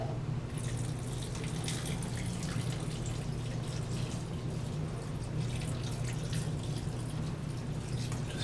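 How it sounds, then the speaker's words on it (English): Water poured over a filter of large rocks and gravel stones trickles and drips steadily through it, a faint, constant wet patter with no voices. "now we're going to try pouring water over a different filter medium, which is just made up of large rocks and some gravel stones"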